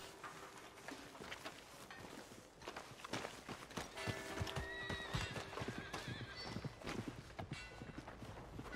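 Horse hooves clip-clop along while a horse whinnies several times in Red Dead Redemption 2, moderately close, with another animal call and faint background ambience.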